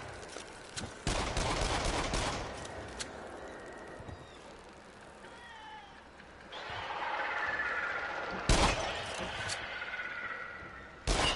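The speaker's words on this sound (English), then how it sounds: "I didn't know I could shoot that open." Gunshots in a video game as something is shot open: several sharp bursts of fire with a mechanical rattle and clank between them, set under a person talking.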